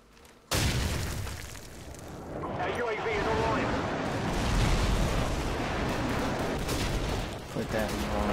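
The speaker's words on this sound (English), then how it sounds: "Friendly airstrike on the way." Airstrike explosions rumble through a Call of Duty 4 match: a sudden heavy boom opens a long, dense stretch of overlapping blasts and gunfire, loud and sustained, with a voice talking over the chaos.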